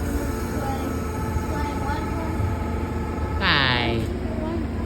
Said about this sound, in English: Amtrak train 125 give two toot on the horn